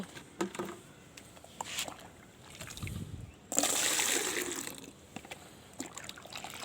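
Water scooped from a bucket for liquid fertilizer on a rooftop garden: scattered drips and trickles, then a brief gush of pouring water, with faint quiet handling sounds between.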